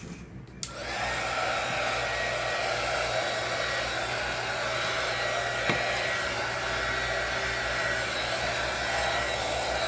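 A hair dryer switches on and blows steadily, a loud close rushing roar that continues without a break after a brief quiet start, used on a soft pastel pink sky painting.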